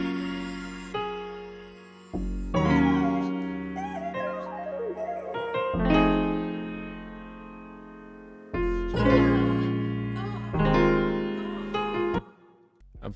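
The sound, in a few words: bass one-shot from Owl Hug kit playing piano chord root notes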